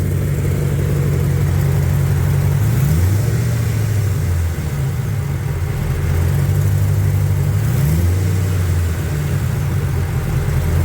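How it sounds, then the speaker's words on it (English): A Plymouth Cuda's LS engine idles loudly with a rough, ticking exhaust note from an exhaust leak, rising in a couple of revs before settling back to a steady idle. "Oh, I got a nasty exhaust leak over here."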